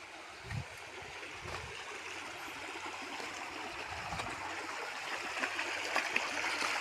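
Creek water flows along a hiking trail, a soft continuous rushing and trickling from a short distance with faint splashes and no speech.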